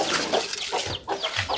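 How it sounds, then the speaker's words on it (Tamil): A chicken in a backyard where poultry and ducks are kept clucks in several short, close bursts, with no talking. "அப்புறம் உள்ளே வந்து ஒரு கோழி இருக்கு, கோழியும் இருக்காங்க"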